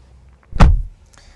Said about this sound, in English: Shutting up the door, as you can see,